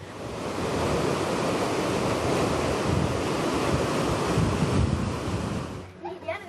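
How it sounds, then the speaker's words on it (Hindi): Floodwater rushes down a hillside in Kerala, making a loud, continuous roar of churning water that fills the scene steadily before easing at the end. "पहाड़ के नीचे की ओर बहते इस पानी को देखकर किसी के भी रोंगटे खड़े हो सकते हैं"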